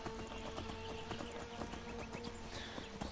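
Horse hooves clip-clop steadily at a riding pace in Skyrim, loud and close over continuous game music and ambient sound, with no talking.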